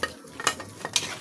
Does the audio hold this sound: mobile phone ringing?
no